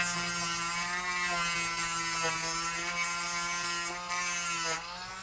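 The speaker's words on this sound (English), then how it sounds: "I will grind down these little ears. So we've got our Dremel, you just take it down" A Dremel rotary tool grinds small brass axle parts for an SCX24 crawler, giving a steady high-pitched motor whine with a slight rasp that dips briefly as it bites the metal.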